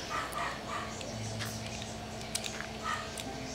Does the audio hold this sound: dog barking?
yes